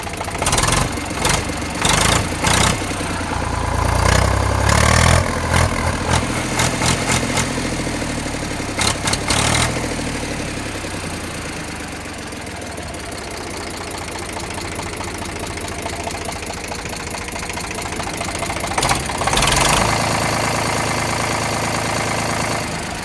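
An Eicher tractor's diesel engine idles loud and close with a steady knocking chug, rougher and louder at the start and again near the end, settling smoother through the middle.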